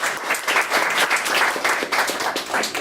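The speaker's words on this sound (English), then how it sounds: "let's have a round of applause for Dr. Bellacero." An audience at a university anthropology alumni lecture bursts into applause, a full, close round of clapping with a rippling, uneven texture that continues steadily throughout.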